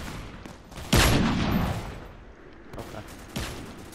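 Gunshots in the video game Strucid: a sharp loud blast followed by a rolling burst, with a second shot near the end, while a voice speaks briefly between them.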